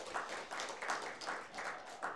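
A church congregation applauds to encourage a deaconess during a Sunday service: soft, steady clapping in faint rhythmic waves that continue through the whole stretch.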